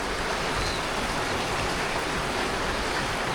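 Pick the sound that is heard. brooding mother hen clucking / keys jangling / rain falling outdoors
rain falling outdoors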